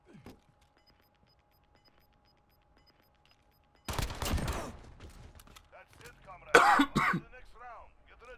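A person coughs and clears their throat during a Modern Warfare 3v3 Gunfight match, sudden loud harsh bursts after a long silence, mixed with game gunfire and some speech.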